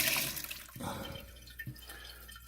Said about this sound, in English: if you listen, you hear the water still dripping